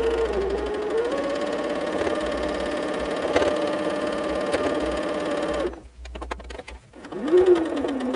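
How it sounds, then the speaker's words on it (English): A sewing machine stitches fabric pieces for a barn star quilt block, a close, steady motor hum that runs for several seconds, pauses briefly, then starts again with a rising whir. "Okay, let's sew it."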